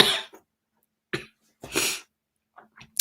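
Several separate coughs with silent pauses between, loud and close, with a few fainter throat sounds near the end.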